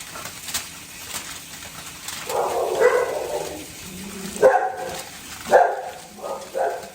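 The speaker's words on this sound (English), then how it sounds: "only my dogs go off like that when there's a cat or a dog walking by" Several dogs bark excitedly at a home, sharp repeated bursts rising in a cluster midway and recurring in loud bouts, with no talk over them.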